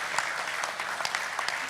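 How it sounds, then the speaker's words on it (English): A room of delegates at a law conference gives a short, steady round of applause for the morning's speakers, dense and even with scattered sharper claps throughout. "please a big round of applause to all our speakers this morning"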